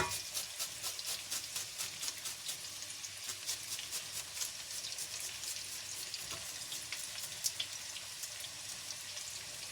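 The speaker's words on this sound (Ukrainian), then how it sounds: "це саме той випадок, коли цибуля має бути добре піджарена" Onions frying in a pan, a busy crackling sizzle with quick popping spatters and a soft steady hiss underneath, close and moderate in level.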